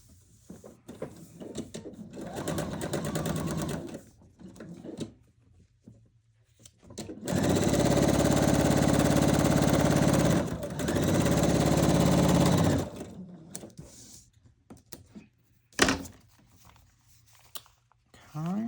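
A sewing machine stitches quilt fabric in loud, sustained bursts of rapid mechanical whirring, with pauses between runs and soft handling noises in the gaps.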